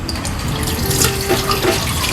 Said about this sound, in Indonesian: Air mengalir dulu.